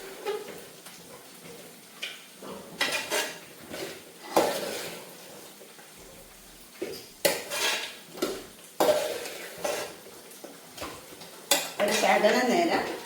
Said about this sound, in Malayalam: ഇതൊന്ന് ശരിക്കും നന്നായിട്ട് ഇങ്ങനെ ഇളക്കി യോജിപ്പിച്ച് കൊടുക്കണം കേട്ടോ